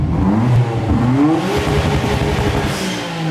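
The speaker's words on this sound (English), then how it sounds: "Hey, Seth, can you rev this thing so like we can give the people a good reason why we're getting rid of this exhaust?" A Nissan Skyline R33 GT-R's RB26 engine revs hard through a GReddy exhaust, loud and close, with rising and falling pitch sweeps across repeated blips.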